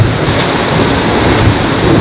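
Wind roars across the microphone with waves rushing past a sailboat in 15 knots of south-southwest wind, a loud continuous wash of noise, no talk.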